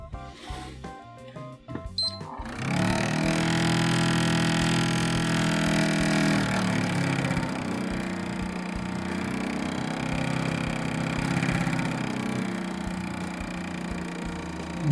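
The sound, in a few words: PS3 console cooling fan roaring like a jet turbine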